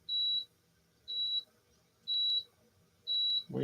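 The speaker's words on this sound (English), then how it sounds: "why are you beeping?" A dehumidifier with a full water tank beeps four times at a regular, evenly spaced rhythm, each tone short and high, fairly close in a quiet room.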